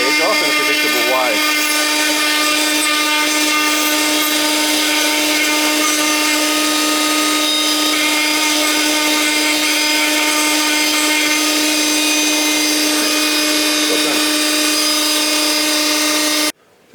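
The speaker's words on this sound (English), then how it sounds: "This is a flap sander." A flap sander whines at a high, steady pitch for a long stretch, sanding wood close by, then stops abruptly at the end.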